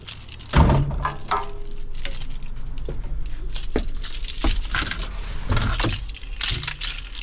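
A large ring crowded with keys jangles and clinks near the microphone, metallic rattles coming in bursts as the bunch is handled and sorted, with a heavy thump early on and low background rumble.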